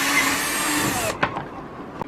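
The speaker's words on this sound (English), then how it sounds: "Since this is a 3/16 wide zip tie, I'm going to use a 3/16 drill." A power drill with a 3/16 bit bores a hole while building a chick brooder, a steady whirring run of about a second that ends abruptly, followed by a few light knocks and handling sounds; no talking.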